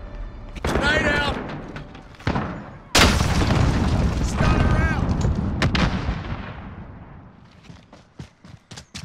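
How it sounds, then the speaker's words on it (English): Grenade explosion in Call of Duty: Modern Warfare, a heavy booming blast landing amid gunfire and battlefield noise, with soldiers' shouted radio-style voices around it and the rumble trailing off into scattered shots. "Grenade out."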